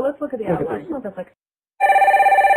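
A person speaks briefly, then after a short silence a telephone bell rings loudly with a rapid, trilling pulse for close to a second.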